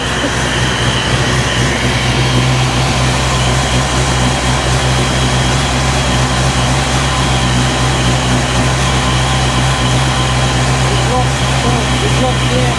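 A supercharged 347 Ford Foxbody V8 idling on a Holley Super Sniper fuel injection setup, a loud, steady low rumble that holds unchanged throughout with a constant droning hum.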